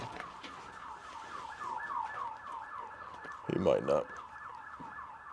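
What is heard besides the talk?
emergency vehicle sirens outside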